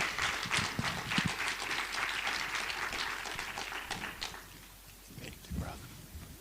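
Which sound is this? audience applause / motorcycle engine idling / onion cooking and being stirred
audience applause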